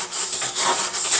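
Hand plane blade sharpened on a stone while clamped, a steady close rasping scrape of steel rubbed back and forth in continuous strokes, loud with no talking.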